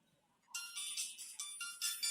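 A phone ringtone sounds for an incoming call, a bright electronic melody that starts suddenly and repeats in a steady pulsing pattern, loud and close with no talk over it.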